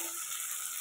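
Pieces of fish sizzle and spit in hot oil in a frying pan, a steady bright crackle over a brief moment, close and unaccompanied by speech.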